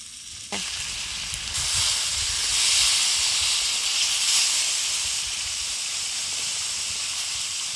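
Water poured into a pan of hot, well-fried cumin and black pepper spice paste bursts into a sudden loud hiss, then settles into a steady steaming sizzle and simmer that lasts throughout, with no voices.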